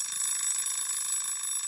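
An alarm clock ticks rapidly and steadily, a continuous run of sharp, even, high-pitched ticks at a fast regular rhythm, close and alone.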